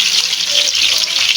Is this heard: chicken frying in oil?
yes